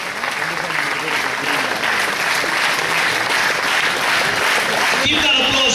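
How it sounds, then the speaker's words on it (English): Loud, sustained applause from a large audience at a national quiz final in Bangalore as the competing teams step down, dense and continuous for several seconds with a voice briefly over it near the end. "let's keep the applause going as these 6 teams step down"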